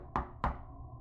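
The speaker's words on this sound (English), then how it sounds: "there's that aggressive knocking again" Two heavy, aggressive knocks on a door in the video game Portrait of a Ghost, sharp thuds about a quarter second apart, close and loud, each with a short ringing decay over a low background hum.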